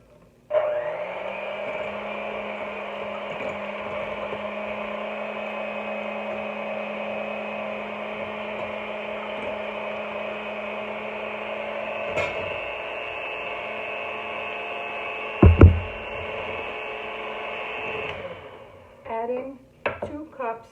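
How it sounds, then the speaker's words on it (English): An electric hand mixer beating eggs for an apple cake, a steady whirring motor hum that starts abruptly and runs evenly for most of the span, then stops, followed by a few clinks. "Just start with hand mixer"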